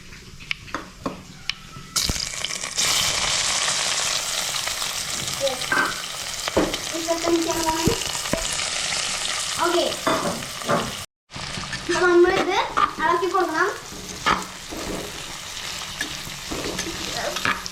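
Chopped shallots dropped into hot oil for a Kerala crab curry, a loud sudden sizzle that keeps hissing and crackling with stirring, while voices talk over it and it cuts out briefly before resuming.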